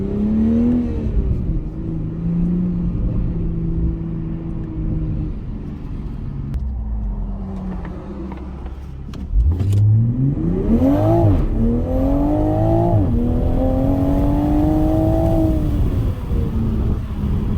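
A 2021 Toyota Supra 3.0 engine drones steadily from inside the cabin, then revs up hard in rising, loud pulls through several gears. No voices are heard.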